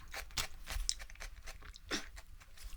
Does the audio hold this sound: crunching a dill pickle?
yes